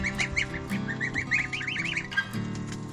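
Baby geese peep in quick, bright, repeated calls while feeding on raspberry leaves, a busy cluster of chirps close by with soft rustling beneath.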